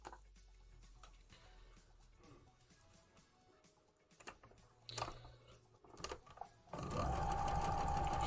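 A sewing machine stitches pieces of fabric, with scattered clicks and handling taps first, then a loud, close, continuous motor whir at the end.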